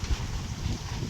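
Strong wind blows outdoors around a home, a dense low rumbling gust hitting the microphone steadily for a moment.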